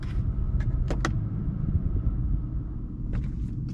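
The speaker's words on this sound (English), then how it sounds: "gonna turn off the car." BMW M5 engine shutting down: a steady low rumble runs through, with a couple of brief sharp clicks near the start and again near the end, then the idle continues without a clear cutoff.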